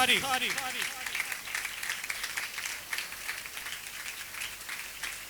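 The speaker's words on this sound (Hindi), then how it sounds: "ग्लोरियस पेंटिकॉस्टल चर्च के founder and chairman pastor Eric Khurshid भट्टी साहब के लिए जोरदार तालियां बजाइए" Loud applause fills a Pentecostal church for its founder and chairman, Pastor Eric Khursheed Bhatti, a dense steady clapping that runs the whole time after a brief voice at the start.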